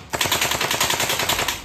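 An electric SLR gel blaster with a metal trigger fires one continuous rapid burst. The loud mechanical chatter of shots runs for about a second and a half.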